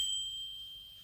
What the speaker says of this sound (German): Klingel.